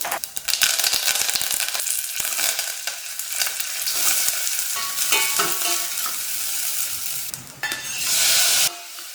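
Shallots, brinjal and tomato cook in coconut oil with mustard seeds, jeera and curry leaves in a pot, giving a steady loud sizzle with bursts of stirring and scraping throughout, no voices.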